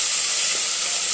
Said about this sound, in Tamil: வெங்காயம் நல்லா ப்ரௌனிஷ் ஆகணுங்க, அந்த அளவுக்கு வதக்கணும்.